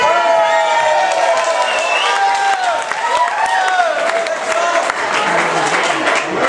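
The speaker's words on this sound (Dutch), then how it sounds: "En terecht een daverend applaus." Loud, sustained applause and cheering from a large crowd after a playback show performance, with a musical tone ringing through the first part.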